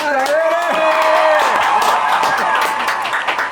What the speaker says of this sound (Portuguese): Time, uma salva de palmas.